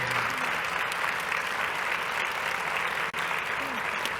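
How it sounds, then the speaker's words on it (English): An audience at a community leadership event gives a sustained round of applause, dense steady clapping that fills the room, with a few faint voices under it. "let's give her a round of applause"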